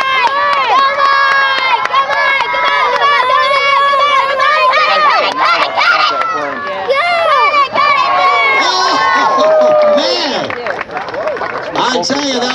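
Loud crowd of adults and children shouting and cheering continuously during a bow saw cutting race, voices overlapping throughout with a few excited yells rising above the din.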